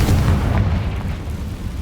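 A Confringo blasting spell going off in Hogwarts Legacy, a heavy, loud rumbling blast with booming low-end bursts that decays briefly.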